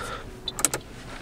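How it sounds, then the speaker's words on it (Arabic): Electric power window on a 2016 Toyota Corolla Sport, a short close whirring motor burst with a few clicks and a small thump as it stops, no talk. "هذه السيارة طبعا زجاج كهربائي مع مراية كهربائية بخاصية الطي"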